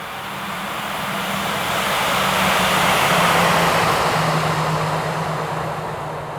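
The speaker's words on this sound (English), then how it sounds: "It sounds kind of cool from far away though, hearing the reversers." Thrust reversers on an Airbus A321neo in the X-Plane 11 flight simulator, heard from outside as a broad, steady engine roar that swells and then slowly eases off, with no talk.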